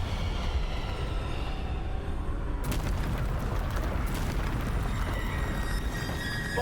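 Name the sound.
Bombarda spell explosions in video game Hogwarts Legacy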